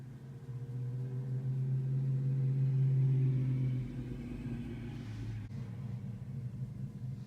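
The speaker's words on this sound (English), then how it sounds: "There's so many loud cars today." A low engine drone swells as a loud car passes outside, then fades to a duller rumble of distant traffic.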